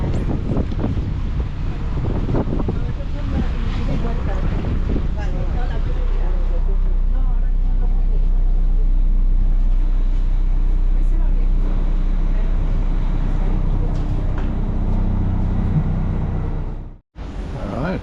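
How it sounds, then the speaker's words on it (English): A ferry crossing the bay to Santander in rough conditions, heavy steady wind buffeting and low engine rumble under mumbled voices, continuous for most of the clip before a sudden drop near the end. "Our ferry has arrived to take us across the bay to Santander."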